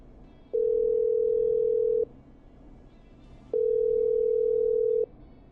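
Two long steady telephone tones, each about a second and a half, separated by a pause, sounding through a phone line in the video game Killer Frequency over a faint hum, with no talking.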